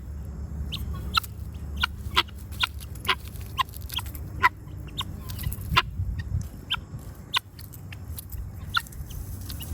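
Chickens clucking close by in a backyard flock, scattered short calls rising over a steady low rumble, no talk.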